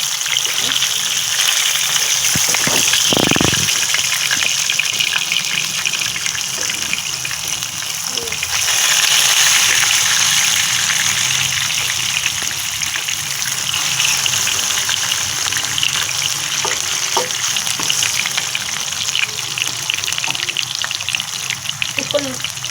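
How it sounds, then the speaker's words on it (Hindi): Marinated fish frying in hot oil in a pan, a steady loud hiss and crackle running throughout with a brief swell midway. "हम एक पैन में हमने तेल गर्म करके इसमें ये फिश, अब हम इसको फ्राई करेंगे अच्छे तरीके से"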